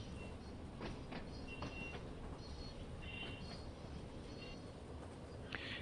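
A heavy 11,000-ton freight train in the Train Sim World 2 video game, a faint steady rumble with scattered clicks and brief metallic squeals, no talking.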